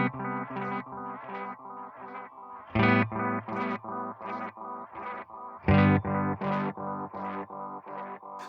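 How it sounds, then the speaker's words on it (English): A distorted guitar run through a Source Audio Encounter pedal set as delay into delay for a black metal sound: dense tremolo-like chords with chorus and echo repeats, heavy low strums recurring every few seconds, loud and without voices. "this is the delay into delay that I made for the black metal thing"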